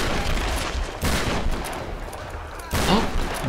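Gunfire in the Tomb Raider video game: dense bursts of shots in a rapid, sustained fusillade with loud sharp volleys near the start, around one second, and again near the end, filling the scene.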